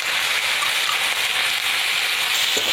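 Ghee sizzling steadily in a pan while cooking a banana stem curry, a continuous bright crackling hiss with no break and no voices.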